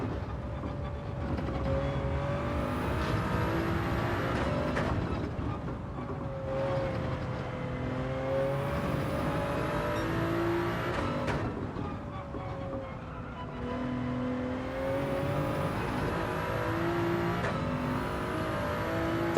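Race car engine in Gran Turismo 7 lapping a circuit, a steady moderate-level drone with periodic revs rising and dropping through gear shifts, a continuous bed of engine and road noise with no talk.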